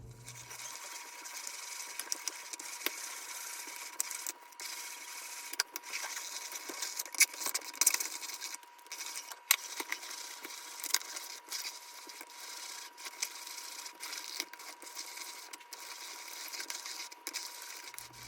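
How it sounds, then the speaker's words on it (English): A NorPro Sauce Master milling tomatoes, producing a steady whirring mechanical grind with irregular small clicks and rattles throughout, continuous and moderately close. "we're gonna go ahead and start milling it and see all of the stuff come through"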